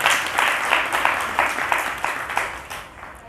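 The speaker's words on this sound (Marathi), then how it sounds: "सर्वांनी टाळ्या वाजवून त्यांचं स्वागत करू आपण" An audience claps together in a steady round of applause, close and fairly loud, dense rhythmic claps filling the room at a religious gathering as a family is welcomed.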